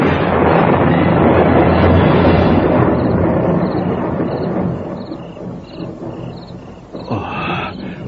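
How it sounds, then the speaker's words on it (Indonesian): Thunder rolls in a radio drama, a loud, deep rumble that fades over several seconds, followed by faint chirping and a later rustling burst. "Petir."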